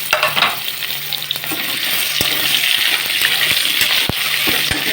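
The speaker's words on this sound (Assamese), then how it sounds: "এয়া পনীৰ ভজা কেৰাহীটোতে মই আলুখিনিও ফ্ৰাই কৰি লৈ লওঁ" Potatoes frying in oil in a kadai used for frying paneer, a loud continuous sizzle with scattered sharp clicks of a spatula stirring and scraping the pan, close up and without speech.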